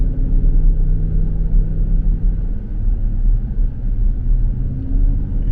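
A car cruises along the road near Hoover Dam, its steady low engine and tire rumble filling the cabin continuously without a break.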